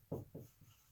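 Pen writing on paper while filling in an accounting bank reconciliation, a few short scratchy strokes close by, two stronger bursts then a fainter one, alone without talk.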